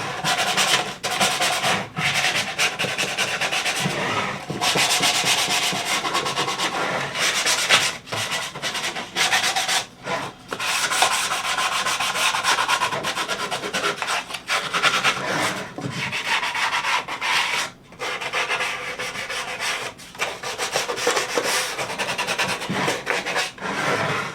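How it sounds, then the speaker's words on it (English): A palm sander rounds over the square edges of a wooden picnic caddy, producing a continuous loud abrasive rubbing hiss with brief pauses and changes in pressure, and no voices. "just go ahead and use a little palm sander. Just kind of sand it up a little bit."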